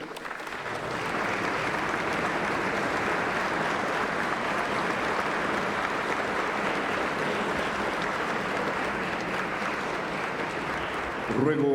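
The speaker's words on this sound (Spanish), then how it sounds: "Un fuerte aplauso, por favor." Sustained applause fills a solemn session of the Central American Parliament, rising after a brief pause and holding dense and steady from a large seated audience before a voice cuts in at the very end.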